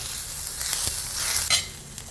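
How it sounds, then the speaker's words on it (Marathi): Onions frying in a pan for a village-style mutton curry, a steady soft sizzle with a few scraping stirs of the spoon, close and moderately loud. "कांदा भाजत असताना हलवत राहायचं"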